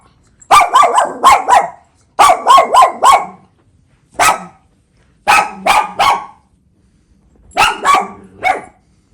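A dog barks loudly and close by in a home, in rapid bursts of three to five sharp barks separated by short silences, repeated five times.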